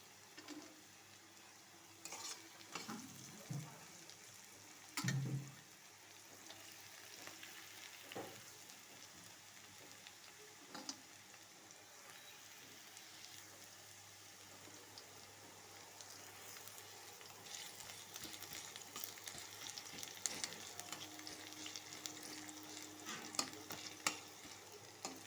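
Onions and chopped garlic fry in a pan, a faint, even sizzle carrying on throughout with occasional soft clunks and scrapes of stirring, one louder knock early on.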